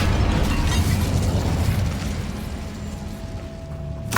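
Casting the Incendio fire spell in Hogwarts Legacy unleashes a loud, rumbling fiery burst that roars for about two seconds, then settles into a softer crackling tail before a final small pop.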